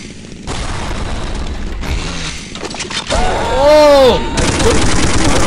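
Bursts of gunfire and booming shots from the game Counter-Strike Online, loud and close, broken by a brief whooshing sweep in the middle, with no talk over them.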